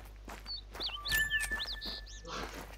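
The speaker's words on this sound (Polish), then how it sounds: "Ptaszki." Birds chirp in the video game theHunter: Call of the Wild: quick, bright whistled tweets and rising-and-falling calls, mixed with soft footstep scuffs over a low background hum.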